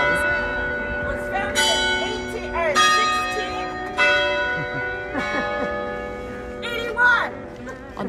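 Church bells ringing in historic Charleston, several bells sounding loud and resonant with overlapping strikes and long ringing tones that sustain through the whole stretch.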